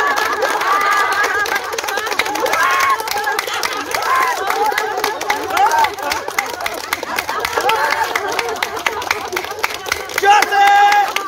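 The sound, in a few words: group clapping during laughter therapy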